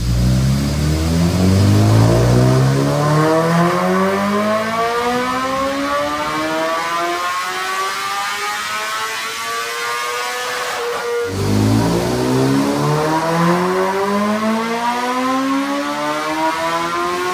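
A 2025 BMW S1000RR sport bike running E85 fuel revs hard on a dyno, its engine pitch climbing steadily through the gears, dropping briefly, then sweeping up again. The loud, sustained high-rpm wail carries no speech.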